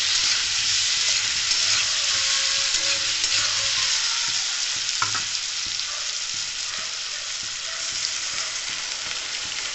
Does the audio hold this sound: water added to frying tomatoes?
yes